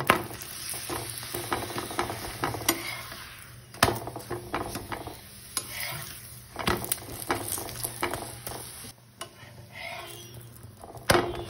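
Methi paratha frying in oil in a pan, a steady close sizzle with repeated clatter and scraping of a spatula against the pan.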